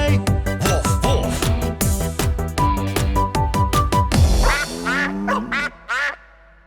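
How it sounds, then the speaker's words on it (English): Duck quacks in a children's song, cartoonish and loud over bouncy music, ending in a few short, separate quacks. "What does a duck say?"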